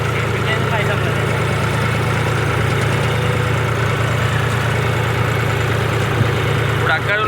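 A farm water pump motor tied at the back runs steadily nearby in a village field, a loud, even low hum with a throbbing undertone throughout.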